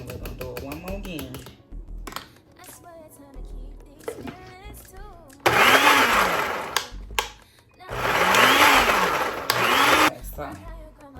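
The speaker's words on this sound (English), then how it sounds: "I need a new blender ASAP" A kitchen blender whirs through an avocado hair mask in two loud bursts of several seconds each, starting and stopping, with a person talking in the pauses before and between them.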